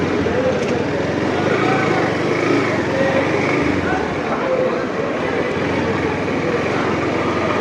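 A motorcycle engine drones steadily during a ride, a loud, even rumble mixed with road and wind noise, with a voice talking over it.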